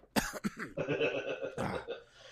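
Someone coughs right after drinking coffee, a few sharp close coughs followed by throat clearing and rough, strained breathing.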